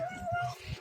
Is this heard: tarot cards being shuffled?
no